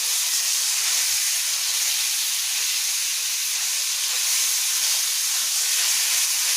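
Grated carrot halwa fries in a pan over medium-high heat, giving off a steady, loud broadband sizzle and hiss that runs unbroken with no voices.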